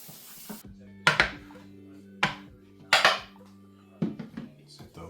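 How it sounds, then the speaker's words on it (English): Pots and pans clank and knock on a stove top as a pan goes back onto the heat while cooking a chicken and risotto meal, with several sharp metallic hits, a low steady hum beneath, and brief talk. "We're gonna return our pan to the heat."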